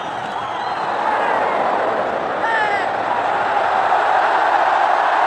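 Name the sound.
noisy cricket crowd in Bengaluru stadium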